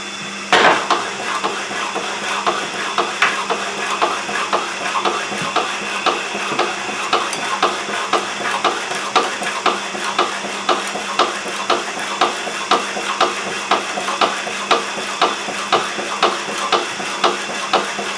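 A vintage donkey saw cutting through 40mm round bar stock, with a steady, even rhythm of repeated metallic strokes and a continuous grinding rasp throughout.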